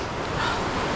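Rapids at Ohiopyle's Entrance Rapids ledge on a high winter river rush in a steady, dense roar, close and loud, with no voices.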